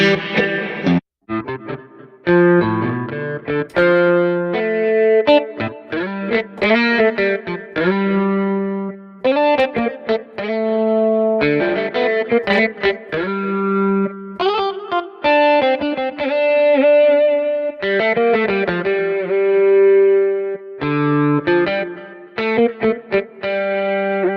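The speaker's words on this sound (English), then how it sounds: "I don't know what that reverb and that delay doing, man, but good God almighty" Electric guitar run through reverb and delay plugin effects, including Neural DSP amp software, playing sustained distorted chords and melodic lines with ringing, echoing tails, loud and continuous with no talking.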